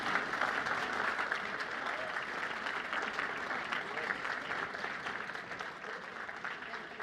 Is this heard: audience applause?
yes